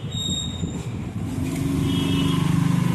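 A motorcycle self-starter motor that fails to crank the engine, giving a rough, low whirring grind that builds into a steady buzzing pulse, close and moderately loud.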